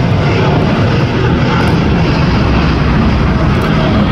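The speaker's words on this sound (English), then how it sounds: "Now departing to Istanbul, Turkish Airlines Dreamliner." A Turkish Airlines Boeing 787-9 Dreamliner departs for Istanbul with a loud, continuous broadband engine roar, steady and close throughout.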